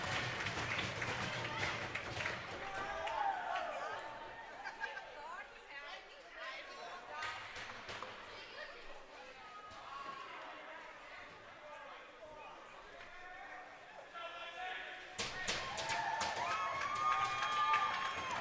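Crowd cheering and clapping in a hockey arena at a Sioux City Metros versus Dubuque varsity game, a fairly faint, swelling roar with scattered shouts that dips midway and surges again near the end.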